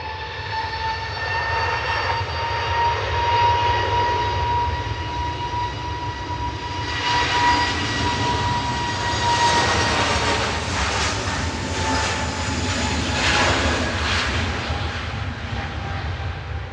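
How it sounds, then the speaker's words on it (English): Airbus A320neo jet airliner departing Manchester Airport for London Heathrow, a loud sustained engine roar with a steady whine, swelling and rumbling continuously throughout. "taking flight 1383 back down to London Heathrow. That's GTTNU, one of their A320 Neos."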